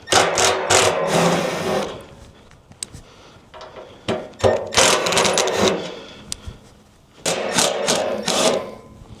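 An impact driver backs out gunked-up hex head screws holding ring plates on a smokeless fire ring. Three clusters of rapid, rattling hammering bursts are separated by brief quieter pauses, close and fairly loud.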